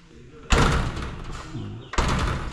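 A bathroom door with a magnet latch bangs shut twice, two loud close thuds with some rattle, while a person talks in the background.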